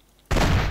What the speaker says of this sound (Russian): все равно выстрелю один вверх так